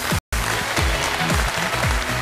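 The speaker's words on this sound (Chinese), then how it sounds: "掌声欢迎" Studio audience at a Chinese television talent-show stage gives a round of applause welcoming an intangible cultural heritage shuttlecock performer; dense, steady clapping fills the clip, broken by a short gap of silence near the start.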